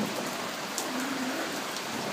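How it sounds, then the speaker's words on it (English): Steady rain during a Los Angeles thunderstorm pours as a dense, even hiss, with a low distant rumble of thunder rolling faintly underneath and no voices. "I haven't heard a thunderstorm like this in LA in I don't know how long"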